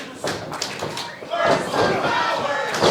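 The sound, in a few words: wrestling crowd shouting "purple power"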